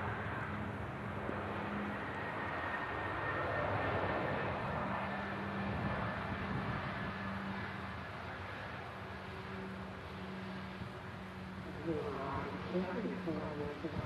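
A Pilatus PC-12 passes over Manchester Airport with a loud, sustained engine roar that fills the whole stretch and stays fairly even throughout.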